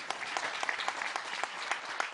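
Sparse applause from an audience at a Jain spiritual discourse, a modest patter of handclaps with a few louder individual claps standing out, fairly thin and short-lived.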